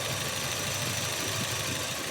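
A Volvo 740 GLE engine idles after a tune-up, a steady, mid-pitched mechanical hum with a faint rhythmic knock underneath, heard on its own.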